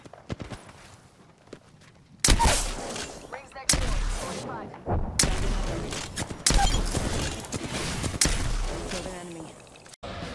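Gunfire in the Apex Legends video game: loud, rapid bursts of shots in several long volleys, close and dense, with footsteps and game sounds between them.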